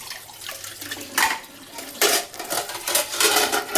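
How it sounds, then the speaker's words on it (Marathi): Pots and dishes being washed and scrubbed at a sink: clattering metal and ceramic knocks and scrapes come in uneven bursts close by, mixed with splashing water. "भांडे घासून घ्यायचे बघा."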